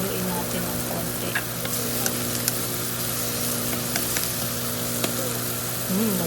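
Corned beef frying in a pan, a steady, dense sizzle throughout with occasional light scrapes and taps as it is stirred, plus a faint background hum.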